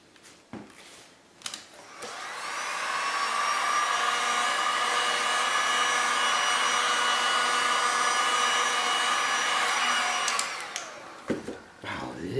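A heat gun blows hot air over a poured art resin piece: a steady, droning whine rises after a few clicks and rustles, holds for about eight seconds, then cuts off, with no speech.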